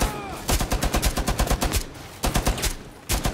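Rapid bursts of machine gun fire from the video game Rainbow Six Siege, loud and close, with tight rhythmic volleys, a brief pause, then more short tapped bursts.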